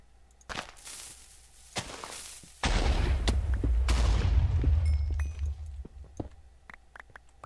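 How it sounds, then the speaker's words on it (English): Several sharp video game explosions go off one after another, with a heavy rumbling boom in the middle that rolls on for a couple of seconds before fading. "Precision explosions."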